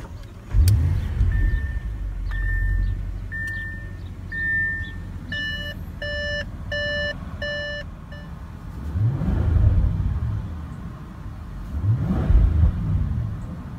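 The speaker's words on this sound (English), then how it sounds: "just push the start button located on the center console to start" Luxury sedan started by push button on the center console: a series of electronic chimes and beeps, then the engine cranks and catches, followed by two rising revs that swell and fade.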